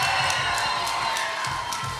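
A crowd at a SteelFist fight event cheers and whoops continuously, a steady roar with scattered claps and shouts rising throughout.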